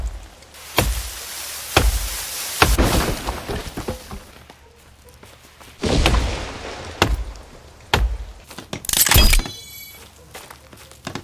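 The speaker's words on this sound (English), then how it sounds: "Time to continue destroying trees." Axe blows strike a tree in The Forest survival game, a series of sharp, loud thunks and cracks spaced a second or two apart, with a heavier crash and rustle near the end.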